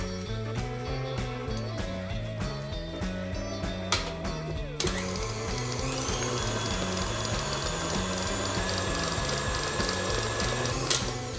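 An electric mixer beats buttercream in a home kitchen, giving a continuous mechanical whir with a ratcheting, rattling texture. It stays close and steady throughout, with no speech.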